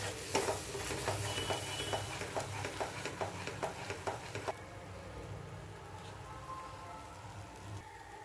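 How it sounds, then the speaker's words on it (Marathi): Grated coconut, fruit pulp, sugar and cream are stirred together in a pan, giving a steady run of soft scraping, clicking strokes that is busier for the first half and settles into a quieter mixing texture. "चांगलं एकजीव करून घ्यायचं आहे"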